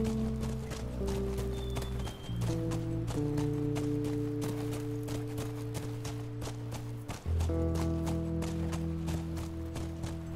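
Horse hooves clip-clop in a quick, steady rhythm throughout in the video game The Last of Us Remastered, accompanied by sustained musical tones in the background.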